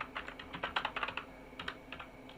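Quiet typing on a computer keyboard, a couple of short bursts of crisp, close key taps separated by a brief pause.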